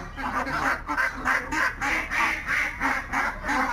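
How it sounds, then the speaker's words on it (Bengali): A flock of ducks quacking together nearby, a dense rhythmic chorus of repeated nasal quacks in regular pulses that carries on steadily without pause. "এক ঝাঁক হাঁস, কি দারুণ! মনে হচ্ছে সবাই একসাথে গান করছে।"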